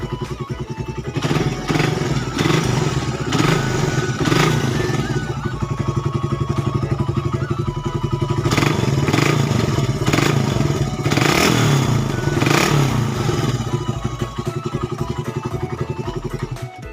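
A Suzuki Satria FU motorcycle engine, running rough, runs loudly and steadily up close, with repeated revs rising and falling throughout, plus some mechanical clatter.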